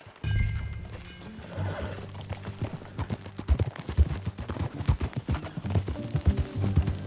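Horse hooves clop and gallop in a quickening rhythm in Red Dead Redemption 2, with a sharp thump or two and a brief whinny over a low background hum.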